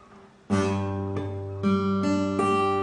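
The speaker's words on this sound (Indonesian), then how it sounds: "Kalau misalnya kita salah mencet itu pasti bunyinya seperti ini" Several strummed acoustic guitar chords played with a wrong fingering, the fourth string muted; five or so strums ring out one after another, clear and close, with no talking.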